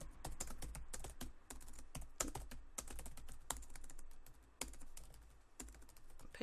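Rapid typing on a computer keyboard, entering a note into collector account software: dense, irregular clicks of keys pressed close up, with a few louder keystrokes standing out, continuing alone without any talk.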